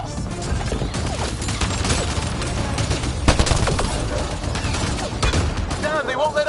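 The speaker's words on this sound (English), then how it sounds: "Just keep firing." Rapid, sustained gunfire and explosions from the sci-fi shooter game Mass Effect Andromeda on PS4, loud and continuous bursts layered with combat noise and shouted voices throughout.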